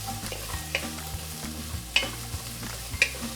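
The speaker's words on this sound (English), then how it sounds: "saute them until the onions get tender" Onions and beets sauté in a pot for borscht, a steady low sizzle broken by a few distinct stirring scrapes and clacks of a utensil against the pot.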